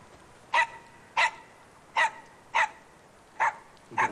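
A small dog barks sharply six times at fairly even intervals, moderately close against a quiet background with no talking.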